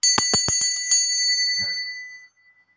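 A small bell rings several quick times, then the chimes fade out over a couple of seconds with a soft clatter at the end.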